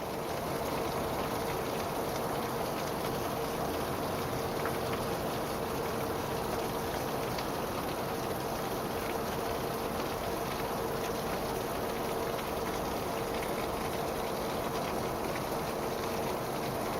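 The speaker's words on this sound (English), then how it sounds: "It's been raining off and on this morning." Steady rain falling outside on a morning of on-and-off showers, an even hiss of drops on surfaces that stays constant and moderately loud, with no talking.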